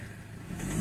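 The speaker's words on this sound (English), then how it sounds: "I'm just doing a few snap throttles." Ford Ranger 2.2 diesel engine with a misfire under load, revved with a quick snap of the throttle; a steady engine rumble swells and grows louder toward the end of the short burst, with no talking.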